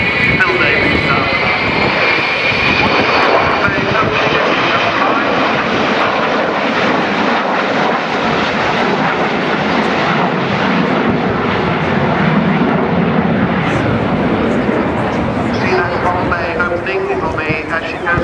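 A military jet with crew aboard circling in a spiral over the far side of an airfield at an air show, a loud, sustained engine roar lasting throughout, with a commentator talking over it.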